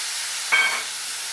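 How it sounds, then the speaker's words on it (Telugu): Chopped tomatoes hit a hot pan while making Andhra-style tomato pachadi, giving a short burst of hiss and sizzle over a steady background hiss that quickly settles back down. "ఇందులో ఇప్పుడు కట్ చేసుకున్న టమాటాలు వేస్తాను"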